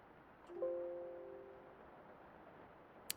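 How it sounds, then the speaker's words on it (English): A short, soft tonal Windows system chime plays once after a file is overwritten, a clean two-note ding over near silence, followed by a tiny click near the end. "Sorry for the Windows noise. That was me overwriting a file."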